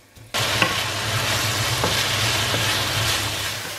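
Chicken thigh pieces hit a hot pan for a quick bami stir-fry, starting with a sudden loud sizzle that settles into a steady close frying hiss, with faint scraping and stirring taps over it.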